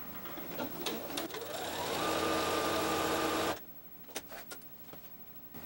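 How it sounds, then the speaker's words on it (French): Sewing machine running a long continuous seam along a quilt, a steady loud whir for a few seconds that stops abruptly, followed by quieter handling clicks. "la seule chose qui vous reste à faire, c'est de faire une couture tout le long"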